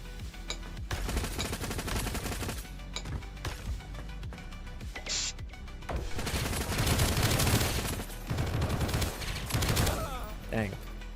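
Pistol gunfire in the indie video game Project Onyx, a game still in development: dense, rapid volleys of sharp shots crack repeatedly throughout, loud and close, with mechanical clinks between bursts.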